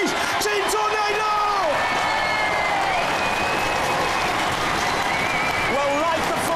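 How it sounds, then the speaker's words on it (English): A studio audience at the Robot Wars Series 6 grand final applauds the UK champions Team Tornado with loud, sustained clapping and cheering, while a voice talks over the crowd and music plays underneath. "One more last round of applause for the UK champions, please."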